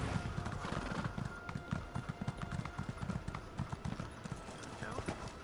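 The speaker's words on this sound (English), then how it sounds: "I get on my horse like I'm about to really go somewhere." Horse hooves clip-clopping in a steady, rapid rhythm while riding in the online game The Elder Scrolls Online (ESO), the even run of thuds loud and close, with a speaking voice running over it.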